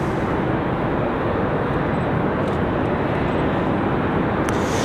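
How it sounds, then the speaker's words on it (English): A Lufthansa Boeing 787 Dreamliner taxis in at Raleigh-Durham airport, a steady, loud broadband engine roar that holds evenly and close throughout, with no voices. "Ops is guiding Lufthansa in."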